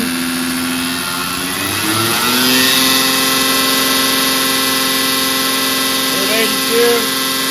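Diesel truck engine held at high idle around 1325 RPM after an injection pump rebuild with a bigger governor; loud, steady, close droning with rich harmonics and a slight swell midway, voices faintly in the background.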